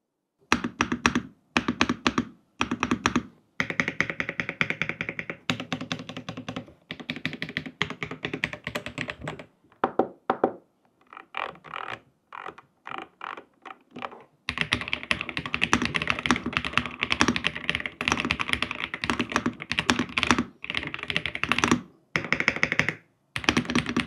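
Royal Kludge mechanical keyboard with creamy switches being typed on, a steady run of close, crisp key clacks with brief pauses, then a denser, faster burst of typing toward the end.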